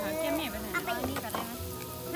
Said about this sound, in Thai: แม่ฝนมากินหมูกระทะแล้วครับ